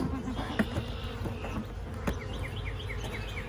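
A single honeybee from a hive of about ten thousand buzzes angrily at close range, a steady agitated drone with rising pitch sweeps and faint knocks, while other bees hum softly behind it.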